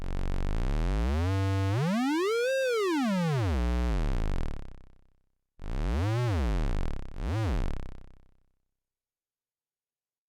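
T-Formant Eurorack formant module running as a VCO, a pure harmonic synth tone that sweeps up and back down in pitch, followed by two shorter swooping notes, loud and alone with no talk.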